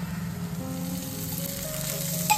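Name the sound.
chillies frying in a little oil in a pan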